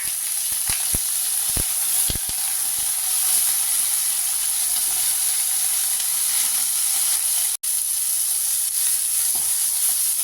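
Raw green mango pieces frying in a hot pan for a sour lentil dish, a steady loud sizzle and hiss throughout with a few sharp crackles early on, alone without any talking.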